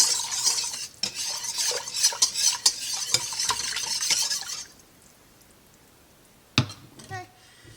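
A spoon scrapes and clinks around a pot of thickening milk and half-and-half sauce, close and busy for several seconds, then stops, followed by a single sharp clatter of cookware.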